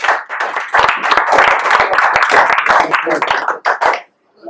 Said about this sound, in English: please give everybody a round of applause for that committee